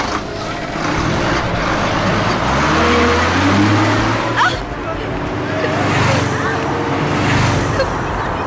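A bus engine drones steadily with road noise as the vehicle moves forward, a broad rumbling wash under tense voices talking over it.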